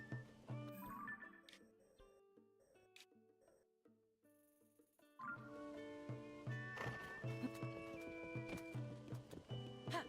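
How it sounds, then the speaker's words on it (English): Zelda's golden horse in the video game Tears of the Kingdom, with hoof clip-clops and a whinny among game music and effects, a quiet gap, then a louder, busier stretch. "This is Zelda's golden horse."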